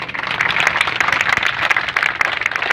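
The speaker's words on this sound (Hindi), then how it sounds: "उदयपुर की पूरी टीम के लिए जोरदार तालियां।" A crowd at a BJP minority wing protest rally in Rajasthan gives the Udaipur team loud, sustained applause, with sharp individual claps standing out of the dense, uneven clapping.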